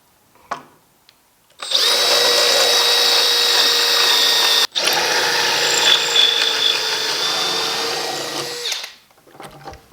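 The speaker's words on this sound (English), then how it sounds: "let Trish get all these drilled" A power drill boring screw holes in a wooden farmhouse wall clock, one long high-pitched whining run with a brief break midway, close and loud, then winding down, with no one speaking.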